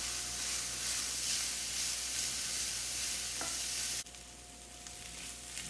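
Vegetables for pork street tacos cook in a pan with a loud, steady sizzle and hiss that drops sharply to a quieter simmer near the end, with no talking.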